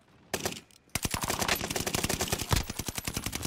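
Rapid automatic gunfire in Call of Duty: Warzone crackles in fast, evenly spaced bursts after a brief pause, loud and close with a short gap near the start.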